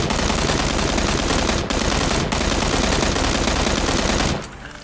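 Sustained rapid automatic fire from an M16 rifle in PUBG, loud and continuous with two brief breaks, ending abruptly near the close.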